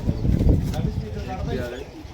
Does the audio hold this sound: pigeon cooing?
yes